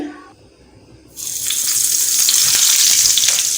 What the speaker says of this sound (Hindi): तो अब हम यहाँ पर ड्रम स्टिक इसमें ऐड करेंगे।